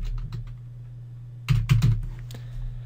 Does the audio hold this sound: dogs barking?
no